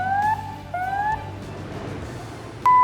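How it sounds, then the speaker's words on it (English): A two-tone warbling general alarm at an onshore processing plant rises in pitch twice over a noisy background, then a new steady tone begins at the end. "First alarm, general alarm. It will sound when something unusual is going on in the processing system."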